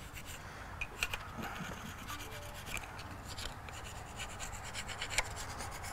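Permatex sealant is scraped off a transmission casing, producing close, faint, irregular scratching and rasping strokes with a few sharper scrapes, over a quiet background.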